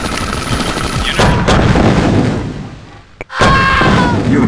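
Dense gunfire and battle bursts from the real-time strategy game Command & Conquer: Tiberian Sun during a hard AI skirmish, loud and continuous, briefly dropping near silent before a renewed barrage.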